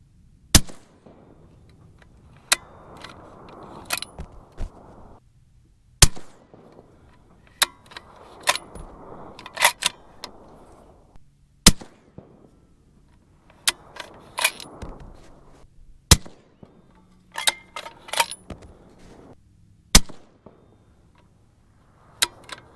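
A 7mm-08 rifle firing a Barnes 171-grain load with new primers, sharp loud shots spaced several seconds apart over a long stretch, with lower handling and bolt noise between them.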